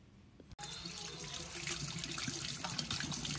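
Water gushes from a just-cleaned kitchen faucet after a clogged aerator was cleared, a strong steady splashing stream into the sink starting abruptly after a short quiet moment and continuing loud and close.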